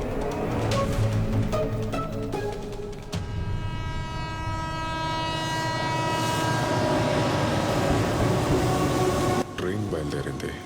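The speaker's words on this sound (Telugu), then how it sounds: "ట్రైన్ బయలుదేరింది" Train departing in a movie scene, with a long horn blast over the rumble and clatter of railcars that keeps on steadily, voices and music mixed in underneath.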